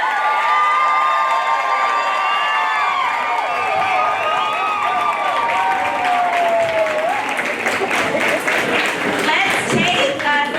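Parents at a kindergarten graduation cheer and clap for the graduating class, with a loud, sustained crowd roar, excited children's shouts and whoops rising over continuous dense clapping throughout.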